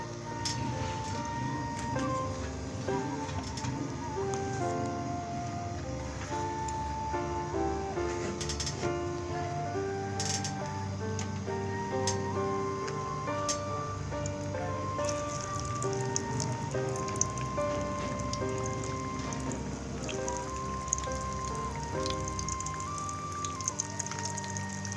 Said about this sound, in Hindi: अब मैं इनको फ्राई कर दूँ।